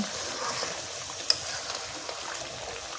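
Country chicken pieces being stirred and fried down for curry, a soft steady sizzle with faint spoon scrapes and one brief sharp clink, quiet and close with no talking.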